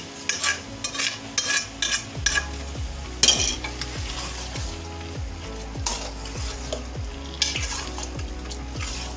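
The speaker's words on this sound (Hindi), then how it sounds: "अब इसमें दाल मिक्स कर लेंगे।" Lentils being stirred into spinach already frying in a pan, with a steady sizzle throughout and repeated scraping strokes of a utensil against the pan at an even rhythm.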